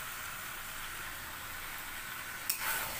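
Mutton kosha cooks in released oil with a constant, dense sizzle close by, and a brief clatter near the end; no talking.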